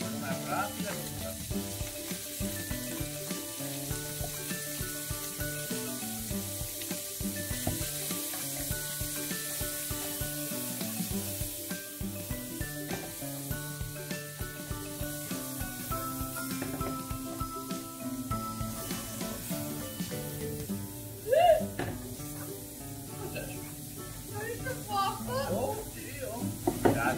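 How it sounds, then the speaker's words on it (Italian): Julienned cuttlefish fry in a pan with a steady, close sizzle and crackle, punctuated by occasional stirring clatter, while people talk over the cooking. "Adesso prendiamo le nostre seppie tagliate a julienne e le mettiamo dentro con una rapida cottura."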